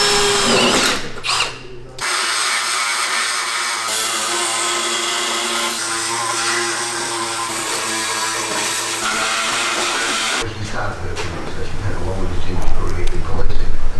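Power drill boring holes through the sheet-metal guard of a Nissan Navara during an off-road build, one long steady whine running continuously and loud, with talk over it and a rougher burst of machine noise near the end.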